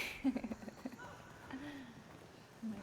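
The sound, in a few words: horse hooves galloping in video game Horizon Forbidden West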